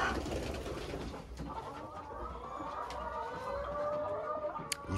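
Brahma chickens in their pen, a rooster among the hens, make soft clucks and low murmurs that go on steadily against a quiet yard background.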